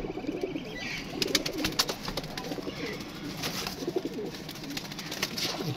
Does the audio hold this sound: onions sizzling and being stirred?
no